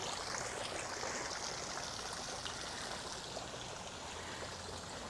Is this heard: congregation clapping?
no